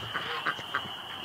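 Ducks quacking at night, three short nasal calls in quick succession, close but soft over a steady high-pitched background hum.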